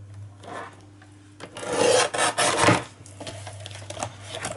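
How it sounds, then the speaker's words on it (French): A paper trimmer slicing between two plastic sleeve pockets: a short, close rasping cut lasting about a second and a half, with faint handling and rubbing before and after. "je prends mon massicot et je vais venir découper donc entre mes deux pochettes"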